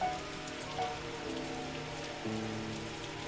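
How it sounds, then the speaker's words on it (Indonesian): Steady rain pours over the town in the video game Pathologic 2, a dense continuous hiss with soft music tones layered underneath throughout. "kalian udah lihat kalau kota ini diguyur hujan belum?"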